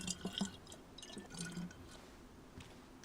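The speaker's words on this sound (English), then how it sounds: "put the canteen in my hand. I'll fill it up with water again." Water trickling and dripping as a canteen is filled in a video game, a soft, steady liquid patter with a few brighter drips near the start, fairly quiet and with no talk over it.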